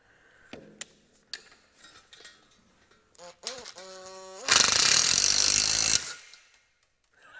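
A loud, dense mechanical burst of an impact wrench hammering for about a second and a half on a metal panel during riveting, preceded by scattered clinks and taps of tools.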